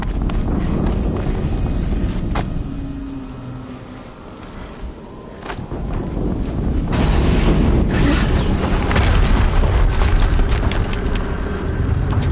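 A video game explosion on PS4 booms out loud and broad, its rumble swelling in the second half and holding as a dense, sustained roar.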